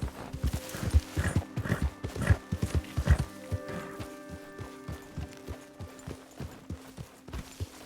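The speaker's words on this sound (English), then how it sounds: "Careful with that horse, Arthur." Hooves clop along at a walking pace, close and rhythmic, with a horse whinnying partway through before the steps continue, in the video game Red Dead Redemption 2.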